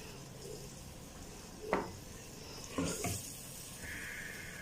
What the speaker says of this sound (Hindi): अच्छी तरह को मसाले के साथ दाल को मिक्स करेंगे।